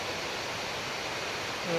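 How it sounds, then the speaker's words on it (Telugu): Steady broadband rush of Baabijhari waterfall near Kerameri, a continuous hiss of falling water filling the whole short stretch at even loudness, swelling slightly at the very end. "ఇదొక వాటర్ ఫాల్"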